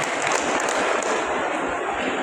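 Audience applause at a public gathering honouring a member of parliament, a steady, dense clapping wash that continues throughout at moderate volume.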